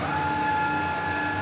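A steady whirring drone from a 1995 Perfecta 115 UC paper cutter's feed mechanism as it moves the stock forward, an even mechanical hum with no voices.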